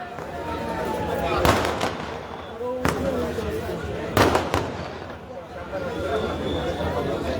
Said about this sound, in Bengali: আমাদের সম্মানিত অতিথিবৃন্দ আতশবাজি পোড়ানো উপভোগ করছে।